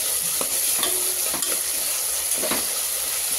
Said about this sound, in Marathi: असं परतत राहायचं, चांगलं खाली लागू द्यायचं नाही।